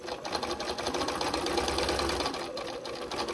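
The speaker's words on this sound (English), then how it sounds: "now I'm gonna sew a little further down" A sewing machine stitching a perfect book binding, a rapid mechanical whirring chatter running steadily for a couple of seconds, then slowing and easing as the stitching stops, close and clear without talk.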